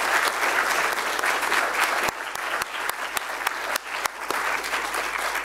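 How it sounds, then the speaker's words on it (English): Dense applause from an audience at the close of an evening panel event on fossil-free investments, steady and sustained throughout with a few sharper individual claps standing out. "spare a clap or two for myself"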